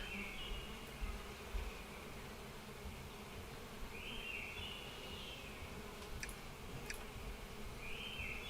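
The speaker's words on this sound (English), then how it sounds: "these are our verdant bees." Continuous droning buzz of verdant bees in the beekeeping game APICO, a steady hum with a few higher whining swells passing through, no talking.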